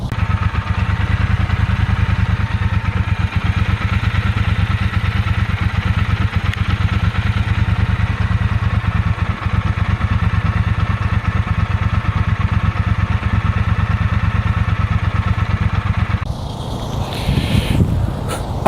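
A Brixton Cromwell 120 motorcycle engine runs close by with a steady, rapid mechanical rumble and clatter, holding even for a long stretch before shifting character near the end as it switches to Sport mode.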